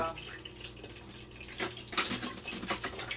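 A spoon scrapes and clinks against a pot while scooping sauce for chuletas en salsa, soft metallic taps and scraping that grow busier toward the end, fairly quiet with no talk.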